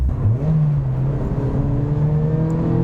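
A car engine revs up and holds a rising, droning pitch, loud and close, with a steady mechanical whir underneath.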